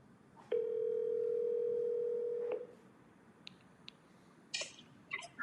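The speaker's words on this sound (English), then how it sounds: "Your call has been forwarded." A forwarded phone call's ringing tone: one steady, clear tone holds for about two seconds, then gives way to a few faint clicks and small handling noises.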